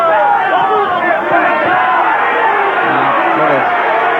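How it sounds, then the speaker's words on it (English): A boxing crowd at a Frank Tate versus Yawe Davis fight roars and chants for Davis, a dense, loud wall of massed voices and shouts that holds steady the whole time. "I think the crowd, they're shouting Davis."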